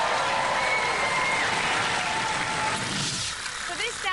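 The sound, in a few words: audience applause for robot Spawn Of Scutter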